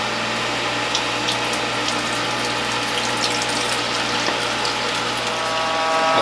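Juice press machine running while filter cloths are filled with parsley, dandelion, collards, beet and carrot pulp: a loud, steady mechanical hum with a constant rattling, whirring texture and no voices.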